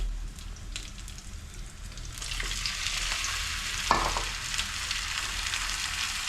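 Green chilies and tomatoes frying in oil for a chutney, giving a loud continuous sizzle that swells as fresh pieces hit the pan, with occasional clinks and stirring scrapes nearby and no talking.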